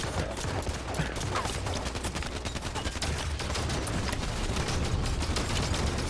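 Rapid suppressed weapon fire in Halo 5 Warzone rattles on in a dense, continuous stream of fast shots, loud and steady throughout.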